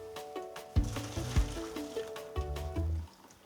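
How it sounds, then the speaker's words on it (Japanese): Hot water from boiled potatoes is poured off a pot, with close splashing, trickling and a few metallic clanks of the pot, lasting about three seconds before going quiet. "火を止めてまずお湯切ります。"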